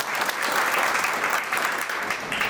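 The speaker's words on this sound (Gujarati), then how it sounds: "એ વિદ્યાર્થીઓ માટે પણ એકવાર એટલી તાળીઓ પાડીએ" An audience at a school award ceremony claps steadily throughout, a dense and even round of applause at moderate volume with no talking over it.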